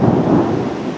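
A loud, close rumble of thunder rolls through a summer thunderstorm in Kimovsk, a deep sustained roar filling the short moment with no voices.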